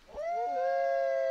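A single long, steady howl from a dog or wolf in the game Minecraft Better Than Wolves, rising at the start and then holding a clear tone, close and alone.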